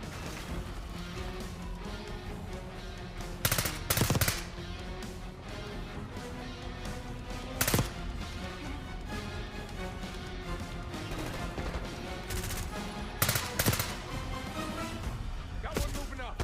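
Gunfire in the Call of Duty Black Ops 6 campaign: a steady wash of battle noise with several sharp, loud bursts of shots and blasts standing out at irregular moments.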